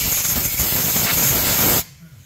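A loud, steady blast of compressed air blows debris out of a Club Car Precedent golf cart rear suspension part, a close, harsh hiss that cuts off abruptly near the end.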